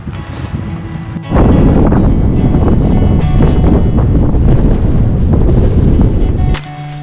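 Strong wind blowing outdoors in Nevada, buffeting the microphone with a loud, rough roar that surges suddenly and holds for several seconds before easing back.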